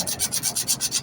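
Hand sanding an epoxy resin knife handle with 240-grit paper: about nine quick, even back-and-forth rasping strokes, close and distinct, with no talking.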